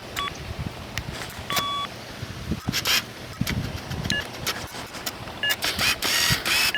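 A Lorenz X6 metal detector gives a constant low electronic hum, broken by short beeps and clicks, alongside rustling handling noise close to the microphone.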